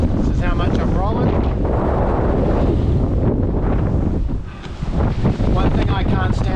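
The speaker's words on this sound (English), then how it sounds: "26 knots of wind at the moment, so it's abated a little bit, which is nice." Strong wind of about 26 knots buffets the microphone aboard a sailboat, a loud continuous roar with gusty surges and water rushing beneath, easing briefly before building again; a person talks intermittently under the noise.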